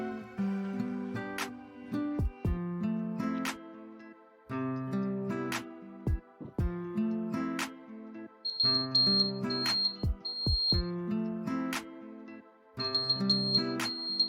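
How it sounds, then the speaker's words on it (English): A smart pen for maths study sounds short, high electronic beeps in clusters from about eight seconds onward, set against steady background music. "As you can see, the study time is over and it started beeping."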